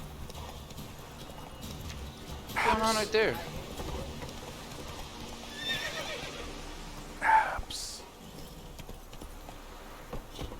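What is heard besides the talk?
horse neighing and hooves in the video game The Witcher 3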